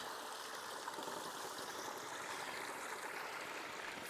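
Steady rushing water runs from a source while gold panning on a metal-detecting outing at Rich Hill, a continuous, even hiss that stays constant throughout and carries no voices.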